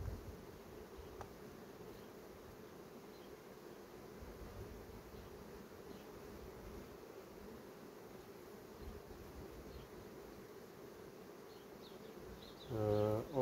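Honey bees buzz steadily at a nucleus hive being checked for hatching queen cells, a faint continuous hum with a brief louder buzz of a bee passing close near the end.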